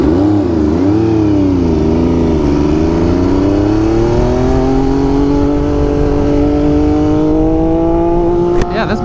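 An MV Agusta Superveloce motorcycle fitted with an SC Project exhaust revs loudly nearby, its pitch wavering and then climbing into a sustained high-revving howl that holds to the end, capped by a brief sharp knock.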